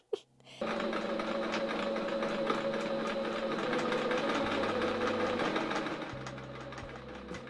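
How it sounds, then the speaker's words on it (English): A sewing machine runs steadily and loud, its whirring hum and rapid mechanical rattle continuous for about seven seconds, starting after a brief pause and easing slightly near the end, used for a DIY headboard project. "It honestly felt really nice to break out the sewing machine because it really has been a long time."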